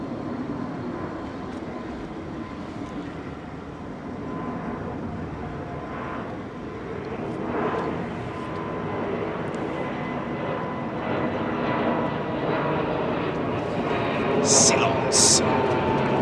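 A Lufthansa airliner passes directly overhead at London Heathrow Airport, a soft, fairly quiet engine rumble that slowly builds toward the end while someone talks over it.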